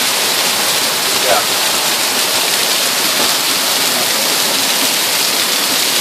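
Hail pours down during a July hailstorm at Lake Tahoe, a dense, loud, unbroken roar of pelting ice close by, with a brief voice under it.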